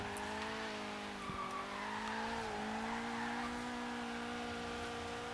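Tires squeal steadily as a Nissan 240SX drifts sideways in Forza Horizon 3, a sustained pitched screech layered over the engine's droning tone, holding for several seconds with a slight dip midway and no voices.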